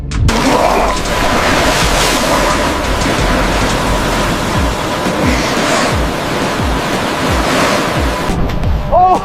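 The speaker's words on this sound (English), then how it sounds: "to the sound of the wind, of the sea" Ocean waves surge and wash continuously under strong wind at sea on a long-line fishing trip for halibut and rays, a dense, loud roar of surf with gusting wind noise buffeting the microphone throughout.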